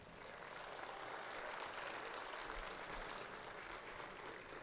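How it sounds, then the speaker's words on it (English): A crowd at an elite high-school football showcase gives the coach a round of applause, faint and distant, as a steady, even patter of claps that runs without a break and with no voices. "So let's give Coach a round of applause."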